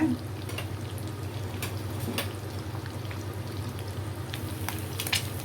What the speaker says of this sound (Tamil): பாருங்கள், ஃப்ரை ஆகிடுச்சு.